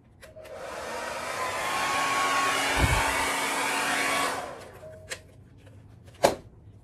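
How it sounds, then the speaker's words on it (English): A hair dryer blows steadily for a few seconds, loud and close, then cuts off, followed by a couple of sharp knocks or clicks. "Here goes the hairdryer again."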